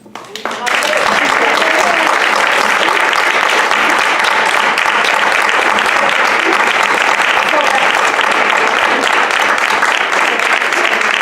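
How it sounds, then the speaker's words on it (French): An audience at a theatre festival bursts into loud, sustained applause that starts abruptly and holds steady, dense clapping filling the hall without pause. "J'aimerais les applaudir."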